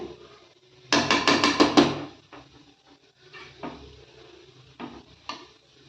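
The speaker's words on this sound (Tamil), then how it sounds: "இப்போது சாதம் வந்து கலந்து விட்டுக்கலாம்" Ghee rice being stirred in a metal pot, with a quick run of loud, rhythmic scraping clatters near the start, followed by softer, scattered scrapes and taps.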